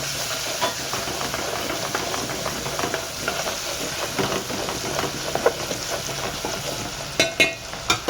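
Garlic, curry leaves and green chilli sizzling in hot oil with asafoetida for a spicy Maharashtrian matki amti: a steady, even frying hiss with faint stirring clinks and a few sharper crackles near the end, no talk.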